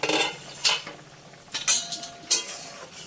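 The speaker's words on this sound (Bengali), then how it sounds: "ঢাকনা খুলে দেখে নেব আলুটা সেদ্ধ হয়েছে কিনা।" A metal lid comes off a pot of boiling potatoes in a home kitchen, giving a few sharp clanks and clinks spaced apart with a faint hiss between them, close and alone.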